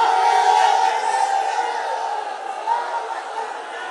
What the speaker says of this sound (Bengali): একজন তাকবীর দেন, আওয়াজ করে তাকবীর পড়েন।